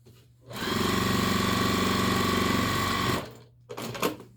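A sewing machine stitches a French seam on an apron in one continuous loud burst of about two and a half seconds, followed by brief handling noises after it stops.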